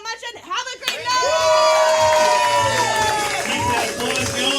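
Audience at a comedy show breaks into loud cheering, whooping and clapping for the cast after a short burst of shouting voices, the crowd noise swelling and staying full for several seconds.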